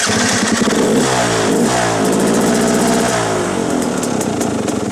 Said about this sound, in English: on 2009 they added the electric start to their 2-stroke